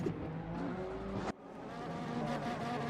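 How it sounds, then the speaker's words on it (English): A BMW driving in reverse in a racing video game, a continuous engine drone with tire noise that cuts off abruptly, then resumes with a steady engine hum. "Oh, there's the BMW just in reverse"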